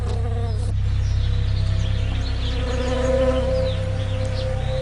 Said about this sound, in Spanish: Cada primavera, millones de abejas son transportadas hasta aquí para que ayuden en la polinización de los almendros.